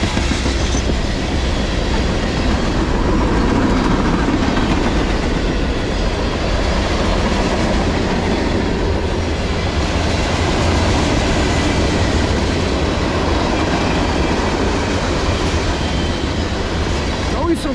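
A CSX M406 manifest freight train rolls past in Middlesex, New Jersey on a Sunday morning, a loud continuous rumble with wheel clatter and occasional squeal, close and sustained for the whole stretch.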